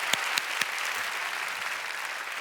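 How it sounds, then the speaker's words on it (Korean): Audience applause at a church prayer gathering after a pastor's testimony, a steady dense clapping from a crowd with a few sharper claps standing out near the start, filling the short stretch with no talk. "우리 백기남 목사님께 감사의 마음을 담아 축복의 박수를 올려드리겠습니다"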